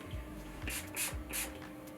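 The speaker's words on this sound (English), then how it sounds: "I'm just gonna spray this through the roots at the back" Three short hissing bursts of hair product sprayed onto the roots at the back of the head, close by, spaced about a quarter second apart, with faint rubbing and handling noises between them.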